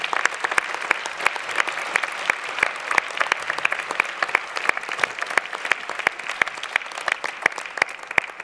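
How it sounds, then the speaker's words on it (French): Audience applause at a New Year's wishes ceremony in Massy, steady dense clapping from a crowd lasting throughout, fairly loud and continuous with no talk over it. "Vous pouvez l'applaudir vraiment."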